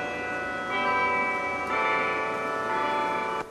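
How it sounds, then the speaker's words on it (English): Bells chime from the top of Billingsley Hall on the MSSU campus, sustained ringing tones with a fresh strike near the middle, steady and fairly close with no talk. "Bell chimes coming from the top of Billingsley Hall."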